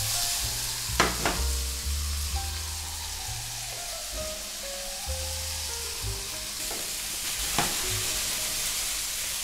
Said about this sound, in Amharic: ትንሽ ይሄንን ጠበስ እናደርጋለን።